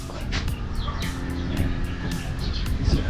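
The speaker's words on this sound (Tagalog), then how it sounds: "Ah, nagkalat na naman ng mga manok." Chickens cluck and squawk in short repeated bursts over a constant rumble of outdoor background noise, close by.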